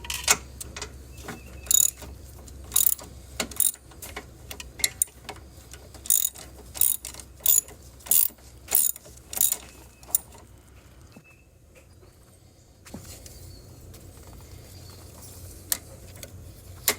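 An extended ratchet clicks steadily on tight motor mount bolts on a 2011–2019 Dodge Charger R/T 5.7L Hemi, in rhythmic bursts of sharp close ratcheting with brief gaps. The clicking pauses near the end and then resumes with sparser ticks, and no one talks.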